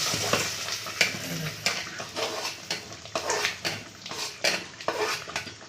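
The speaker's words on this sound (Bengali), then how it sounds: "ভালো করে খিচুড়িটাকে আমরা নাড়িয়ে নেবো" Khichuri is stirred into a spice masala in a frying pan, giving a steady sizzle broken by rhythmic scrapes and clinks of the spoon against the pan.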